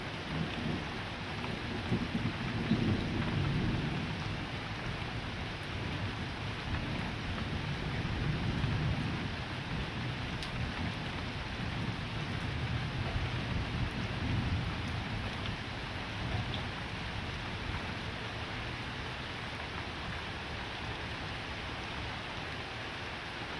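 Moderate to strong daytime thunderstorm in September, with a steady hiss of rain throughout and several low rolling rumbles of thunder swelling and fading, heard from a distance without any voices.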